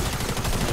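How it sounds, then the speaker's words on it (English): Gunfire in the battle-royale game Fortnite, a dense burst of rapid shots filling the whole short moment, loud and continuous with no voice over it. "Someone else is shooting at me."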